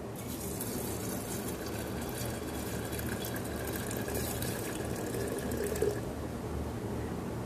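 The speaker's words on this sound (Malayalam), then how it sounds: "ഇനി ഇതിനകത്തോട്ട് വെള്ളം ഒഴിച്ചു" Water is poured into a container for an indoor water plant, a continuous gentle splashing trickle heard close by at moderate loudness, with no voices.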